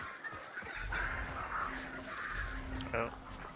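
Dogs barking in the video game Hunt: Showdown, a few yelps heard over a steady background ambience, with people talking over them.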